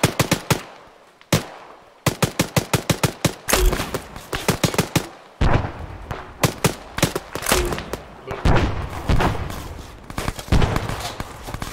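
Arma 3 gunfire in bursts: rapid strings of sharp, loud shots with brief pauses between volleys, dense and close, alongside heavier thumps from grenade launchers and no talking.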